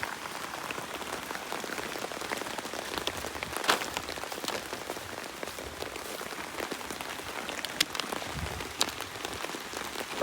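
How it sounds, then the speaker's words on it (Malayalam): Heavy rain falls in Kerala, a continuous close patter on hard surfaces with scattered sharper drips standing out over about ten seconds, no speech. "നല്ല മഴ പെയ്യുന്നുണ്ട്"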